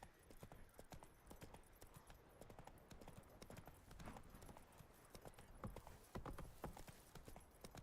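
Roach, Geralt's horse in the video game Witcher 3, trots with a brisk, steady clip-clop of hooves, each hoofbeat sharp and close, continuing without a break.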